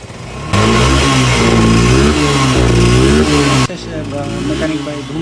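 A Suzuki Gixxer SF 2022 motorcycle engine revs hard and loud after a mechanic's service, holding steady high revs for about three seconds before dropping back to a lower rumble.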